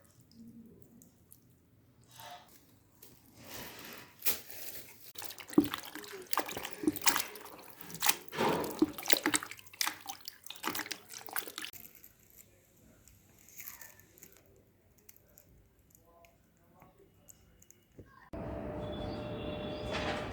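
Wet squelching and dripping as water is squeezed from a soggy mass of paper pulp, with irregular trickles and splashes, then a steady hiss takes over near the end.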